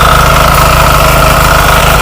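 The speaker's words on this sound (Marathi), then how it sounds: "हे बघा हे फास्ट ट्रॅक्टर" A tractor engine running loud and close while ploughing a farm field, a steady throbbing drone with no break.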